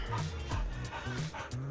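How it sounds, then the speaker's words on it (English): A shop dog in a BMW repair shop gives short repeated barks and yips mixed with whimpers, loud and close. "and the shop dog"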